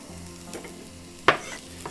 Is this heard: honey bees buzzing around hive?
no